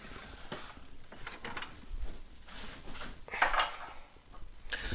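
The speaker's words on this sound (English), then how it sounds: "I'm going to change to a slightly shorter tool rest" A wood lathe tool rest is swapped for a shorter one, making scattered metallic clanks, rattles and clicks at close range against a quiet background.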